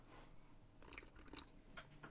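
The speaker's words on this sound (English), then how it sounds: "sorry for the sipping noises" Quiet sips and mouth sounds from someone drinking close to the microphone, a few soft slurps and swallows with no talking.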